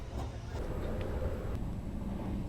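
Steady low rumble of a train at a railway station in Italy, a continuous heavy drone with faint metallic squeals and distant noises, no talking.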